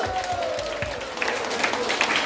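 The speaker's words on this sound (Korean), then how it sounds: "박수 한번 주세요" Studio audience at a community singing class clapping for a performer, a dense patter of applause mixed with crowd noise and a voice.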